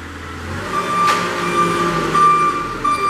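The Kohler engine of a 2016 Princeton PB55.3 piggyback forklift idles and runs steadily nearby, a continuous low drone with a thin, sustained tonal whine like a backup alarm riding on top.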